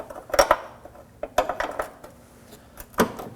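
Metallic clinks and ratcheting taps of a wrench working back and forth on a rear brake line nut of an Acura MDX; short irregular bursts of clanking close by with quiet gaps between.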